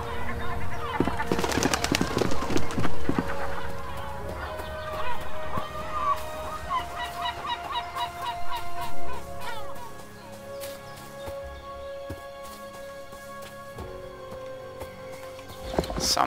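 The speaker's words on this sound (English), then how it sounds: "Seagulls." Seagulls cry repeatedly in the Captain Bones pirate survival game, their honking calls drifting over game music and ambient background at moderate volume.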